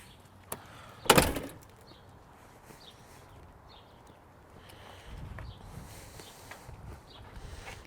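A door is opened during a fear-training session with a dog, a sharp bang followed by a softer creak and shuffling movement, close and alone with no talk.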